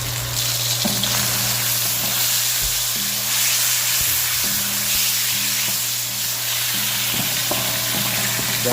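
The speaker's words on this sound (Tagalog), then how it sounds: "Dahan-dahan lang po tayo sa ating paghalo." Food frying loudly in a pan, a dense continuous sizzle close up, with soft stirring scrapes and knocks scattered through it and no talking.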